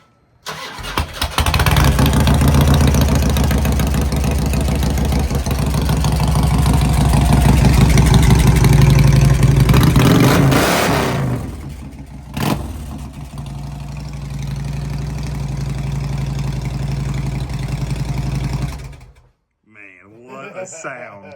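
A Harley motorcycle engine starts and settles into a loud, close, throbbing idle, swelling briefly with a rev before running steadily and then cutting off abruptly near the end.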